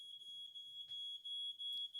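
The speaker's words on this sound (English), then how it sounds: "that's a fire alarm." A fire alarm emits a continuous high-pitched electronic tone, held steady and fairly quiet, with brief soft knocks and faint background sounds around it.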